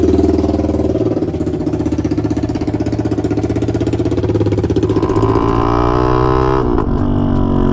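A Honda XRE 300 motorcycle with a straight-pipe exhaust runs loud and close, its rough, pulsing idle shifting into a higher, rising rev near the end before dropping off.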